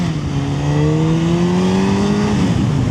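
Honda CBR 600F motorcycle engine revving hard at high rpm, a loud rising whine with buzzing vibration underneath, held strong and then easing slightly near the end, heard from up close while riding.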